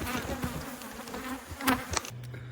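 A dense, steady buzz of many honey bees being treated for mites with oxalic acid fills the air, close and continuous, with a few brief louder bursts near the end.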